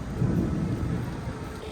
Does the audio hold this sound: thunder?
yes